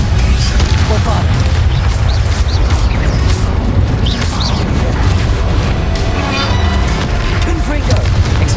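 Loud booming blasts from the Bombarda spell in Hogwarts Legacy, heavy crashing explosions layered with combat noise and voices throughout the clip.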